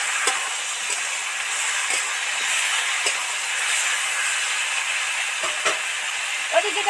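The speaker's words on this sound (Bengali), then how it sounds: "মশলাটা ওর সাথে মিশিয়ে ভাজতেই থাকছি" Ground cumin, coriander and chili powder fry in a pan with a bright, steady hiss. Occasional soft scrapes and taps from stirring are heard, and no one speaks.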